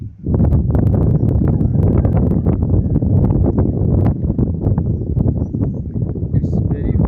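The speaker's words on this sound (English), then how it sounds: "The wind is blowing very hard, very fast, very hard." Strong wind blows hard outdoors, roaring loud and steady as it buffets the microphone the whole time.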